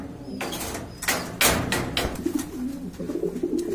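A pair of pigeons coos softly near a coop over steady background rustle and low murmuring, with a few louder thumps and scrapes mixed in.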